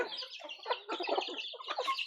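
Busy chicken clucking, several birds overlapping in quick, chattering bursts at close range, with no talking.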